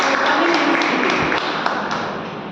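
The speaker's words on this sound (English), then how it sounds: "So a big round of applause for that." An audience at a Toastmasters meeting applauds together in a dense, continuous wash of clapping that holds steady and fades slightly toward the end.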